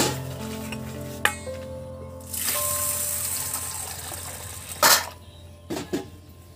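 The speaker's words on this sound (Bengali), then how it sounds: "এই ডালটা আমি জল দিয়ে হালকা ধুয়ে নেব" Masoor lentils, 250 grams, rinsed by hand in a pot of water: swishing, pouring and gushing water with light clinks of metal against the pot and a few sharper splashes near the end, close up with no talking.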